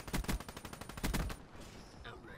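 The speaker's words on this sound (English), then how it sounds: "It's shooting like in the same spot." Rapid gunfire from the Weevil rifle in Call of Duty Black Ops 3, several quick bursts of loud shots in the first second and a half, then quieter game ambience.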